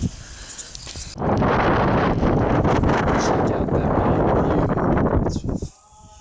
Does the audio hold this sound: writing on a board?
no